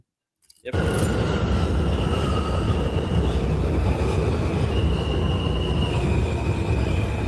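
A train rolls along the tracks with a loud, steady rumble that starts abruptly and carries faint squealing tones from the wheels throughout.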